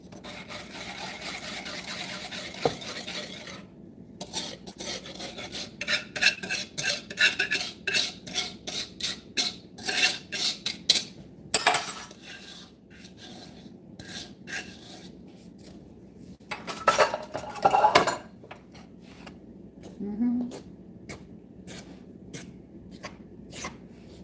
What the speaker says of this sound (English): they want you to mix it with a fork, gradually drawing the flour from around the edges